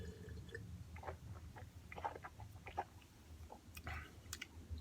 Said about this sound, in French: Une dernière gorgée.